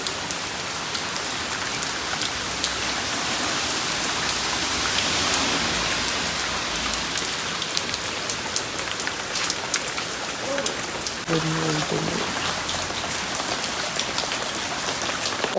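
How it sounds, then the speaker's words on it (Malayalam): Heavy rain pours down in a steady, dense hiss of drops striking surfaces, continuous and enveloping throughout, with no voices. "മഴ, പെരുമഴ. എന്തൊരു മഴയാണ്."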